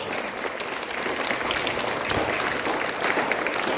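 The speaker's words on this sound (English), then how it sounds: "a big hand of applause for class 8B" Students and staff at a middle school morning assembly give class 8B a steady round of applause, moderately loud and continuous, with scattered crowd noise inside the clapping.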